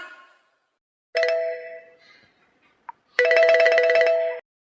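A phone rings during a call: two loud electronic ring bursts separated by a short pause, with a brief tone blip between them, heard alone in silence.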